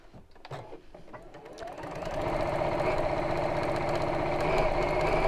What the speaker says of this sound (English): I think I'm losing a bit of power on my machine. It's going a bit quick and slow.